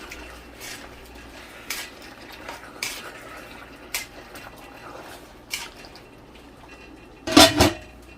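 Beef tongue estofado is stirred in a pot: scattered metal spoon clinks and taps against the pot at irregular intervals over quiet background, ending with a louder double clatter.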